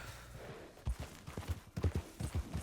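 Horse hooves clip-clop in Red Dead Redemption 2, a brisk, uneven run of close, fairly soft hoofbeats on the ground, heard alone without talk.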